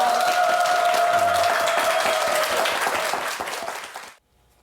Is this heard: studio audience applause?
yes